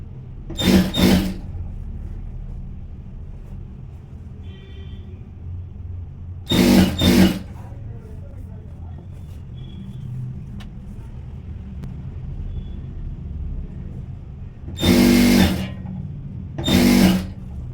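A sewing machine stitching saree falls buzzes in a few short, loud runs separated by long quiet pauses with faint room noise.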